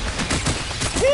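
A rapid burst of gunshots from the VR shooter Farpoint, a quick flurry of closely spaced loud cracks over about a second.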